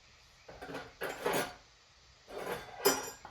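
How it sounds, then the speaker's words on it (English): Sugar being whisked in a bowl with a single whisk for homemade tiramisu, a few short bursts of scraping, clinking strokes with quiet pauses between, close and moderately loud, no talking. "4 tablespoons of sugar. 2, 3, 4. And then we're gonna whisk it."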